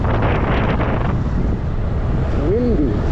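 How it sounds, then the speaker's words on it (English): Steady wind buffets the microphone during a fast wheel ride in a loud, continuous rumbling roar, with a faint brief tonal squeak near the end. "It's windy."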